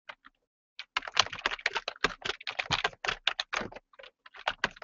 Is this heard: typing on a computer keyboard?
yes